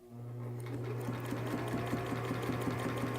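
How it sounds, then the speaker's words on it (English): A sewing machine stitches through a fabric cap, running at a steady close hum with a rapid, even needle rhythm that continues throughout. "Now I'm stitching through it."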